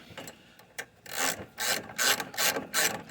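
Ratchet wrench clicking in quick repeated bursts as it tightens a nut on a John Deere LA115 riding mower with a 19.5 hp Briggs & Stratton engine, close and fairly loud with no talking.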